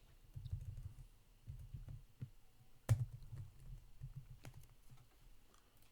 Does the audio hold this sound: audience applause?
no